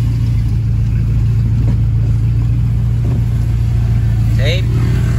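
A car drives along with its engine running steadily and swelling slightly, loud and close, with a constant road drone throughout and a brief squeak near the end.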